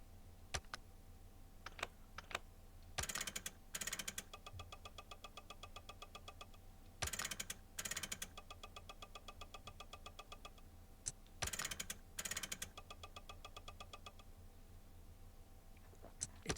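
Winding keys turned on a clock mechanism in the horror game Clock Tower 3, faint repeated ratcheting clicks in regular bursts over a low steady hum, alone without talk.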